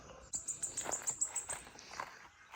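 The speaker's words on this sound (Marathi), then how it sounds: "बऱ्याच पक्ष्यांचा आवाज किलबिलाट" Quick, high chirps repeat in a rapid series, with other bird calls scattered around, soft and somewhat distant in a quiet morning setting at a homestay in nature.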